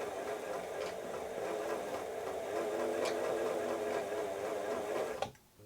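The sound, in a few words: Singer 247 sewing machine clonking from cracked cam stack gear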